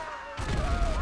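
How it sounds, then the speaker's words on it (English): A sudden booming blast from a grenade in GTA V bursts in after a quiet moment and rumbles heavily to the end, loud and close with broadband crackle. "Frag's out!"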